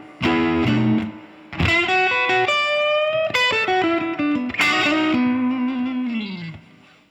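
An electric guitar plays a slow blues lick, with sustained bent notes and short phrases that ring out with distortion and effects, loud and close, ending on a fading held note.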